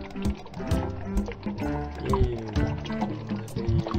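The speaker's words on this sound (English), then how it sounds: "We're gonna pour this and make a cast for them." Molten metal is poured into a cast in the Jacksmith blacksmithing video game, a busy liquid gurgle and splash mixed with game sounds and music throughout a short stretch.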